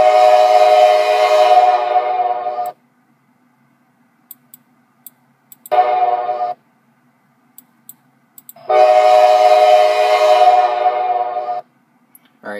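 A custom train horn from the Train Simulator 2016 game sounds in three loud, steady blasts: a long one, a short one, then another long one, separated by near silence.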